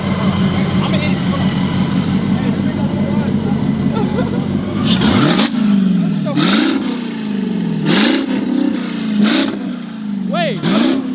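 A car engine idles roughly, then revs hard several times in quick bursts, each rising and falling, loud and close, with voices talking over it.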